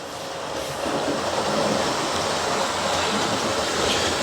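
A Hornby GWR Star or Castle class model steam locomotive runs steadily along its track, giving a continuous close rolling hum and rattle of small wheels that holds level throughout, with no talking.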